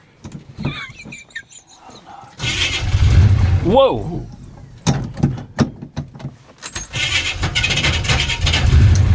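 A 1966 Chevy Impala engine cranks and sputters, then rumbles roughly, with a brief startled exclamation and some talking over it, amid a starter problem.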